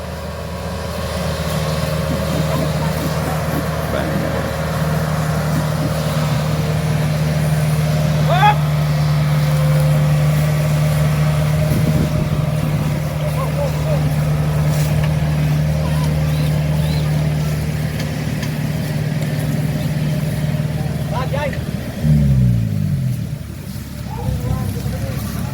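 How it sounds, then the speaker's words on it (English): A tractor engine runs steadily throughout as it is loaded during a corn harvest in the Philippines, a loud continuous low drone with a brief rising rumble near the end; people talk over it. "And they're loading up the tractor."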